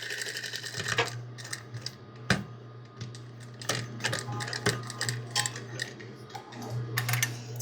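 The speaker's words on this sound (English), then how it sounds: "now I'm going to stitch all the way to the edge and back stitch with my ribbon inside the hem" A sewing machine stitches an apron hem with ribbon tucked inside, giving close, uneven bursts of rhythmic clattering with sharp clicks and knocks over a steady low hum.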